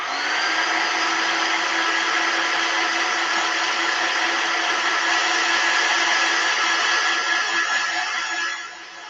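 A hair dryer or heat tool runs loud and steady for several seconds, drying paint on a color-block painted clipboard, before easing off right at the end.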